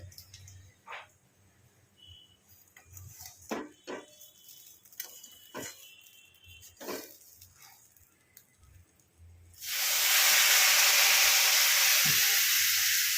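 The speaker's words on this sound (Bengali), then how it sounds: "এবার এতে জল দিয়ে দেবো।" Water is poured into a hot mixture of savory vermicelli in a pan. A few light clinks and scrapes come first, then a sudden loud, steady hiss of steam and sizzling that carries on to the end.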